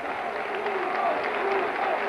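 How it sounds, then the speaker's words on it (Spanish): Large football stadium crowd at a Real Madrid home league match applauding a goal, a dense, sustained wash of clapping and cheering with steady loudness throughout, faint whistles or shouts rising above it. "El gol de Hugo provocó una salva de aplausos de dos minutos"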